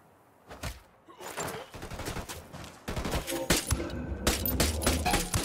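Sustained gunfire in the tactical shooter Ghost Recon Wildlands, with bursts of automatic and single shots, close and loud, growing denser and heavier in the second half.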